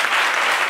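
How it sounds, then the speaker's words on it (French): A television studio audience gives brief, loud applause, a dense, even burst of clapping with no voices. "On l'applaudit très fort."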